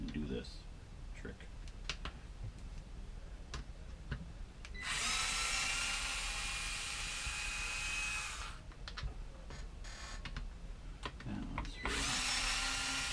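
Old 20-year-old 14.4 volt Bosch cordless drill revving in loud, steady bursts of several seconds each, with someone talking and workshop clatter between the runs.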